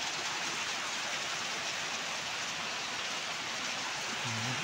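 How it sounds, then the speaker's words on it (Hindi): Heavy rain pours down steadily, a dense, continuous hiss with no breaks, close and enveloping; no talking. "बारिश बारिश बारिश बारिश तेज बारिश।"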